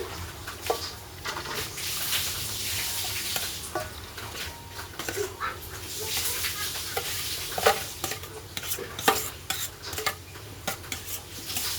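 Macaroni salad being stirred in a large container, a steady, close, continuous wet churning with a spoon scraping and clinking against the sides throughout.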